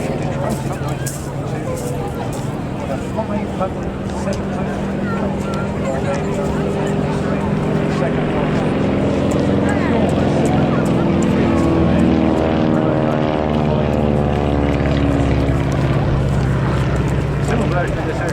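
Vintage propeller warplane at the Falmouth Armed Forces Day airshow in Cornwall, its engine drone loud and steady, the pitch sliding downward as it passes overhead, under continuous commentary from an announcer.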